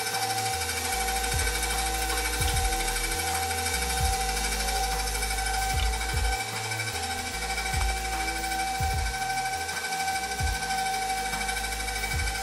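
An electric stand mixer runs at raised speed through plantain cake batter, a steady mechanical whir with a rhythmic, pulsing churn that holds throughout.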